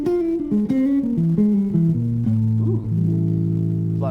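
Guitar playing a dissonant outside lick in A, a run of descending sustained notes settling on a held chord, steady and alone.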